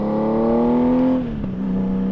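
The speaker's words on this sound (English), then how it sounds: "What you're listening to today is the Shark Road exhaust. Flexing the muscle here a little bit, man, on the 1800cc Honda Goldwing." Honda Goldwing 1800cc motorcycle with a Shark Road exhaust revving close by, a steady deep engine drone that rises, drops briefly as the throttle eases, then settles back into a smooth idle-like hum.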